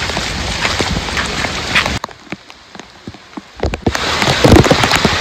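Heavy monsoon rain pours down on a Konkan trekking trail near Palghar, dense and hissing with scattered louder drops; a brief quieter stretch midway, then the downpour swells again, with no talking.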